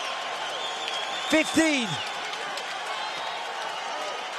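A UFC arena crowd roars through the main event fight as a dense, continuous wash of cheering, with a brief voice cutting in over it.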